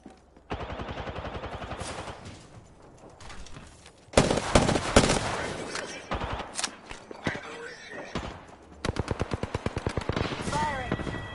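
Video game gunfire in rapid bursts of automatic shots, loud and close, with pauses between volleys and a final fast rattling burst, under some game voice lines.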